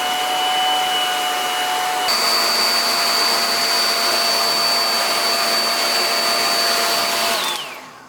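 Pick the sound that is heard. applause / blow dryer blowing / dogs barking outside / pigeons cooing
blow dryer blowing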